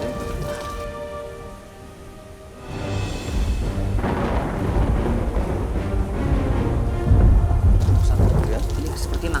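Heavy rain pours down steadily through a thunderstorm, with deep rolling thunder building and rumbling repeatedly over the downpour.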